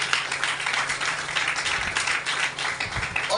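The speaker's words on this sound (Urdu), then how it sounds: "زوردار تالیاں سب کے لیے ہو جائے۔" A church congregation at a Sunday gathering bursts into sustained applause, many hands clapping in a dense, even patter that fills the room, with a faint voice underneath.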